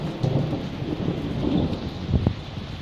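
Heavy rain pours steadily while low thunder rumbles beneath it, a brief deeper crack standing out near the end, with no talking.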